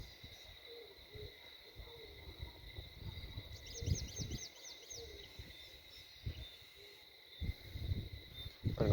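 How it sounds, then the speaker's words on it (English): Birds call in quiet rural fields near Holy Innocents Church in St. Thomas, Barbados: a brief run of quick chirps and soft hoots over a steady insect drone, with scattered low thumps. "You can hear the sounds of the birds and the sheep and the cattle in the nearby fields."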